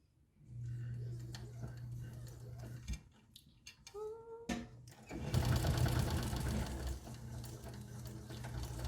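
A sewing machine stitching a messenger bag with a zipper, steady mechanical whirring in bursts, briefly pausing around a clicky stop before a louder, denser run of stitching, fairly close.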